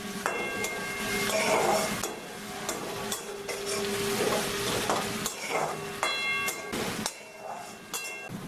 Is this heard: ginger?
yes